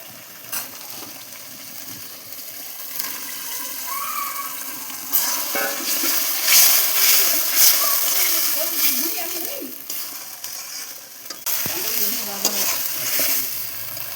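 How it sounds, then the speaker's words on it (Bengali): Pieces of fried pointed gourd (potol) drop into sizzling masala and are stirred around the pan, with a steady close sizzle, bursts of scraping and splattering, and a voice talking intermittently over it. "এরপর দিয়ে দেবো ভেজে রাখা পটল।"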